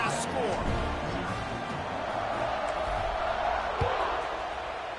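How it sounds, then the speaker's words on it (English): A college football stadium crowd buzzes after a score: a dense, steady roar of many voices filling the space, continuous and fairly loud, with a commentator talking over it. "this crowd buzzing after that last score"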